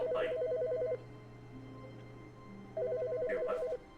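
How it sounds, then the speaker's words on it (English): In The Stanley Parable: Ultra Deluxe, a telephone rings in two trilling bursts of about a second each, separated by a pause, over a steady low electronic hum in the game. "Pick up that phone."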